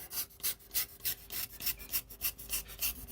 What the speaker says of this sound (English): just getting the snap blade, watch your fingers, and like I said, just do like a sawing action